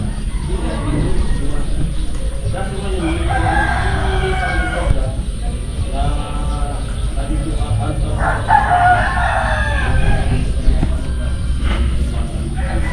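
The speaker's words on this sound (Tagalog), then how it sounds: "Kaninong manok to?" A rooster crows several times, its drawn-out calls rising over a steady low background rumble, fairly close and loud.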